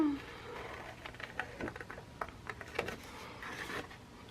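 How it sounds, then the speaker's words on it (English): Cutter Bee scissors snipping paper for a mini album page, a run of small crisp clicks and snips, close and fairly quiet, with a brief voice near the start. "these are cutter bee scissors"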